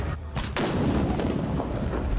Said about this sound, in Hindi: ईद का ऐलान किया गया तोप के 2 गोले दाग कर